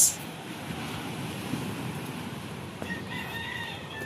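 Waves break gently on a seashore, a soft continuous wash of surf with wind, fairly faint, while a rooster crows in the background near the end.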